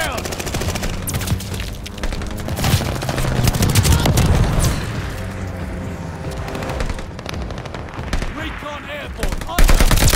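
Heavy strafing-run gunfire in the Call of Duty: Vanguard multiplayer video game on the Oasis map, loud sustained machine-gun bursts and booms rolling over several seconds, with players shouting over it.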